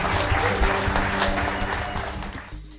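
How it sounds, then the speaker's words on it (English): Steady applause from a crowd fills the clip, loud and continuous, tapering slightly at the end. "Let's have a round of applause for Sandbox Commerce."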